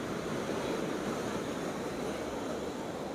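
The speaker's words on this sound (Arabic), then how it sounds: "بصوا الموج طالع كان لغاية فين." Sea waves surge and wash continuously along the Alexandria corniche near Cleopatra on a spring day with high swell, a steady broadband roar of surf mixed with gusting wind buffeting the microphone.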